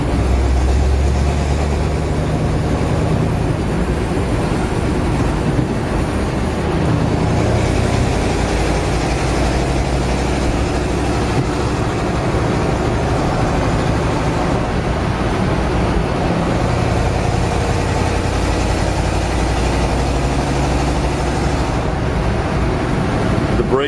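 A stock 1950 Oldsmobile wagon with a low-mileage 303 V8 idles steadily, a continuous low engine rumble close by with no clear revving, running alone without talk for the whole stretch.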